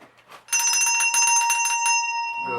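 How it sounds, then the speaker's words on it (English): Toy bells ring in a rapid cluster of bright, sustained metallic strikes, loud and close, leaving a shimmering tone that fades before a soft thud at the end. "I added one of my favorite instruments, and it's these bells"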